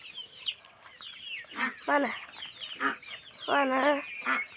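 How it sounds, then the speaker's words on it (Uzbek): Geese honk in a garden, several harsh, nasal honks in bursts, some stacked and repeated close together, fairly near, with light talking in the background. "Ana g'ozlar ko'rsatilargan. Mana g'ozlar."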